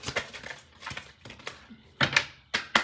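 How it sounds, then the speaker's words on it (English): A series of crisp papery riffling bursts, like playing cards being shuffled, repeat close by in irregular bunches. "These cards are hard to shuffle."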